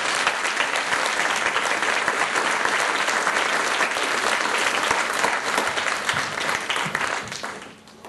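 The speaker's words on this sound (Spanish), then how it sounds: "un aplauso a mi novia" Sustained, dense clapping from a church audience cheering for someone's girlfriend, loud and even for several seconds before fading out near the end, with no speech over it.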